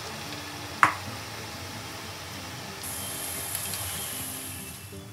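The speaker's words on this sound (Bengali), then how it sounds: "এবার আমি চাউমিনটা দিয়ে দিলাম।" Chow mein noodles deep-frying in plenty of hot oil, a soft, steady sizzling hiss after a single sharp clink, growing brighter and fuller partway through, close and unbroken, with no talking.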